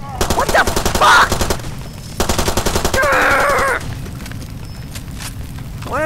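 Rapid automatic gunfire in the video game Far Cry 2 rattles out in two loud, sustained bursts with a brief pause between them, followed by quieter lingering noise.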